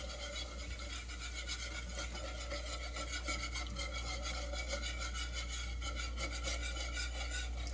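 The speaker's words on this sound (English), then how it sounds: "So that's where this whisk comes in really handy to get the lumps out." Whisk scraping and rasping steadily through milk and roux in a pan while making chipped beef gravy, a continuous close, brisk rhythmic stirring with no talk.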